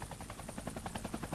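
A helicopter flies overhead, its rotor beating in a steady, fast chop with a dense engine roar, fairly close and continuous, with no talking.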